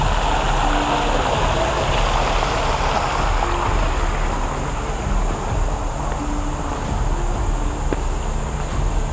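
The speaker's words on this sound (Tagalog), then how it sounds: "maagos sa tubig" Fast-flowing water at Tongtong Falls, a waterfall in Montalban, Rizal, Philippines, roars in a steady, loud, unbroken rush that fills the whole stretch with no voices over it.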